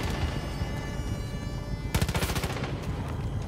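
Gunfire rings out in the shooter game Far Cry 5, a dense steady clatter that breaks into a sharp rapid burst of automatic shots partway through, loud and close.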